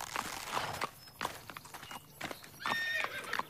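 A horse on a ranch neighs and whinnies several times while its hooves clip-clop close by in an uneven walking rhythm.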